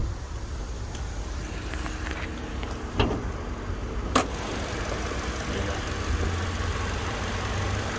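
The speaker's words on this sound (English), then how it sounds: "A little 4-cylinder motor." A 2018 Kia Picanto's small 4-cylinder engine idles under an open bonnet, a steady low rumble throughout with a couple of brief clicks.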